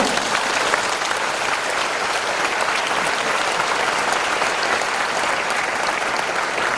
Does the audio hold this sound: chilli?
no